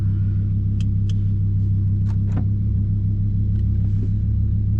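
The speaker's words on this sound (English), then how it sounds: "here we are cruising in the Lambo" Steady low engine rumble from inside a Lamborghini cruising along, with a few faint clicks and squeaks over the drone.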